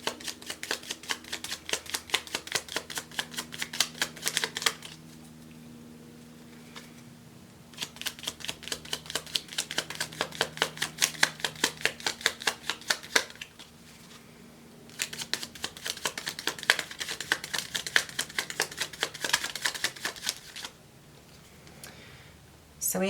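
Tarot cards being shuffled in three long bursts of rapid riffling clicks, separated by quiet pauses, close and alone with no talk.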